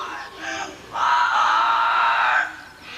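A pet parrot named Poco Jr. squawks, giving a short harsh call followed by a longer, loud rasping screech that trails off.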